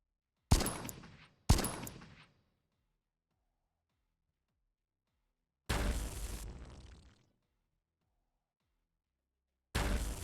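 Twin pistols firing in the psychedelic dungeon crawler video game Descent of Lunaris: two sharp quick shots, then a longer rumbling blast and another shot starting, each loud and separated by silence.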